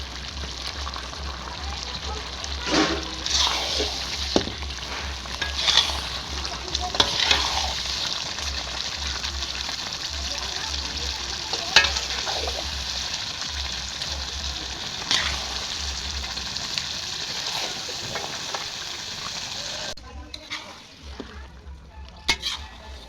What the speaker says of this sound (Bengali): এবার আগে থেকে ম্যারিনেট করা মাংসটা আমি এর মধ্যে দিয়ে দিচ্ছি